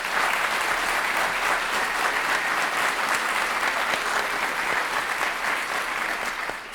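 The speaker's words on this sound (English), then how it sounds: "Let's give them a round of applause." An audience at a university state-of-the-university address applauds in a dense, sustained wash of clapping that stays loud and even throughout before easing slightly at the end.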